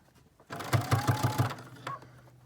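A sewing machine stitches a fabric face mask, starting up and running in a steady burst of five quick, evenly spaced needle thumps before slowing and trailing off, close and clear with no talking.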